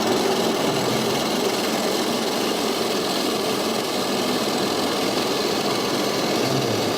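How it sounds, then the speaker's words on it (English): The lift hill of Nitro, a roller coaster at Six Flags Great Adventure, gives off a loud, continuous rattling clatter of the chain that stays dense and unbroken the whole way through. "Yes, that lift hill is very loud."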